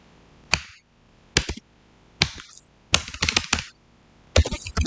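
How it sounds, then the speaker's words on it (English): A computer keyboard is typed on up close in short, loud bursts of clicking keystrokes, separated by brief pauses of silence. "Now, let me continue typing, okay?"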